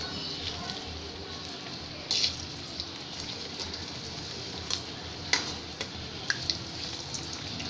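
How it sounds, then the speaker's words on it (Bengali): Raw banana kofta balls frying in hot oil, a soft continuous sizzle with occasional sharper pops and spatters, faint and steady. "এখন আমি এগুলোকে ভাজবো।"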